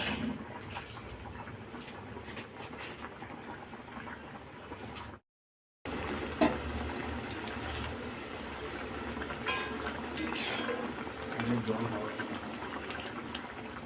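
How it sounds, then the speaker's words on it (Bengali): Pomfret fish curry gravy bubbling steadily in a pot, a continuous dense boil with a brief silent gap midway. "তো মিনিট পাঁচেকের মতন এভাবে ফুটতে দেবো"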